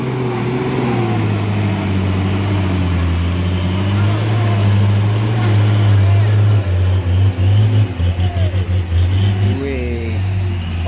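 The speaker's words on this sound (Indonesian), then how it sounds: "di sana satu unit truk Hino yang melaju mendaki" A Hino truck's engine labors up the steep Batu Jomba incline, a loud, deep, steady drone close by that pulses and wavers near the end, with voices speaking over it at times.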